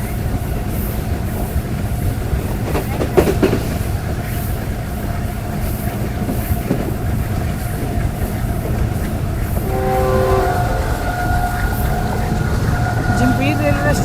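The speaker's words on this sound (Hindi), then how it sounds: "जंपीर रेलवे स्टेशन को स्किप कर रही है ग्रीन लाइन 6 डाउन 3:18 पे। और गाड़ी की रफ्तार 105 किलोमीटर फी घंटा चल रही है।" A Pakistan Railways Green Line express on the Lahore to Karachi route runs at about 105 km/h past Jhimpir station, with a loud, continuous rumbling roar, wheel clatter and brief tonal squeals near the end.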